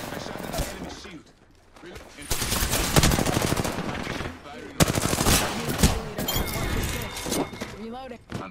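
Rapid automatic gunfire rattles in loud bursts during an Apex Legends firefight, with clinking, shattering hits and a short lull between volleys, while voice lines call out over the shooting.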